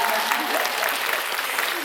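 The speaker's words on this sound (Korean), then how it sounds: "감독님 박수 한번 부탁드릴게요" An audience at a film talk event applauds the director, with steady massed clapping at a moderate level throughout and faint voices underneath.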